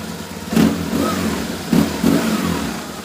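A nearby motorbike engine revs in short, throaty surges, two or three rising pulls over a steady idle rumble, with no talk.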